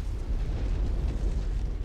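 An enemy mech reactor exploding in the MechWarrior 5 video game, a dense, continuous low roar and rumble that stays loud and steady throughout.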